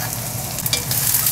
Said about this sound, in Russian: И отправляем наш лук на обжарку.